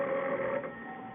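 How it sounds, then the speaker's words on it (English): A telephone rings once, steady and close, fading at the end of a short burst, with no voices over it. "Harry, the phone."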